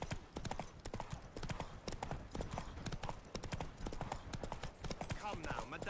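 A horse gallops in The Witcher 3 with a quick, continuous drumming of hooves throughout, close and prominent, while a voice speaks over part of it.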